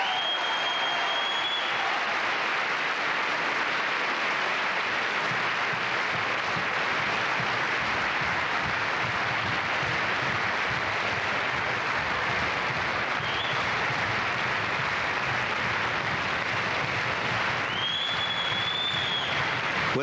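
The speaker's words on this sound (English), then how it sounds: "Whistles punctuating the rhythmic applause." Concert audience at a 1986 performance applauding in a long, dense, steady wash, with shrill whistles cutting through at the start, midway and near the end.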